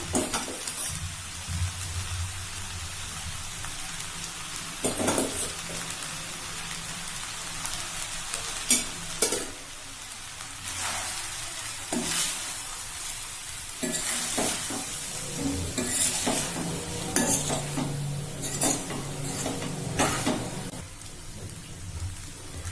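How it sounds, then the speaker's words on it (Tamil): Mint rice stirred in a pan over a low flame, giving a steady soft sizzle with repeated scraping strokes of a spoon close by and no speech. "கொஞ்சம் கொஞ்சமா போட்டு கிண்டிக்கலாம். அடுப்பை சிம்ல வச்சுட்டு கிண்டணும்."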